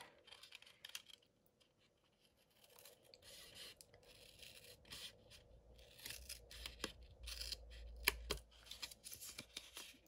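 Scissors cut a paper star shape, producing a run of quiet, close snips and rustles that build after a near-silent start and grow denser toward the end.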